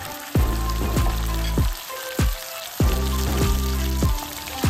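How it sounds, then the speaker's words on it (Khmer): Beef dropped into garlic already frying in a hot wok for a Lok Lak beef stir-fry gives a steady, loud sizzle, punctuated by several sharp knocks and scrapes of a utensil against the metal pan. "ពេលខ្ទឹមសក្រហមហើយចាប់ផ្ដើមដាក់សាច់គោចូល"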